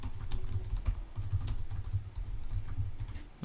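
Close, quiet clicking of keys on a Mac computer keyboard as a folder name is typed, a quick irregular run of taps with short gaps.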